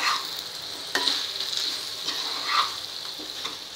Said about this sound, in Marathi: आता आपण यात बटाटे घालून घेऊया।